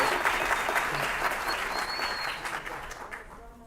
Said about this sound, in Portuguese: Aplausos e mais aplausos!